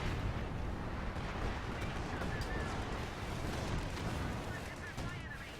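A precision artillery barrage in the video game Company of Heroes 2 sounds as a dense, continuous rumble of booming impacts. The explosions run steadily under a commentator talking throughout.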